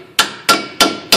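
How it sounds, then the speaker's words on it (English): A hand tool hammers a part into the rear end housing of a Ford Mustang fitted with a Heidts Pro G independent rear suspension, four sharp, evenly spaced metallic strikes ringing briefly in a close, quiet shop. "you want to use a tool to kind of hammer it in"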